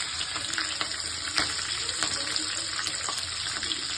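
Byadagi chilies, curry leaves, garlic, green chilies and cumin sizzle steadily in hot oil for a tomato rasam, a dense continuous crackle close up with a few sharper pops and no talk.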